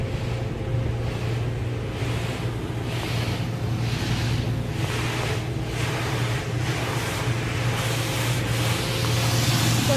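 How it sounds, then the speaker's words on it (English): Water sprays hard and steadily inside an automatic car wash, a loud, continuous rushing hiss with rhythmic pulsing sweeps as the jets pass over the car, alongside a low mechanical hum. "Here comes the water."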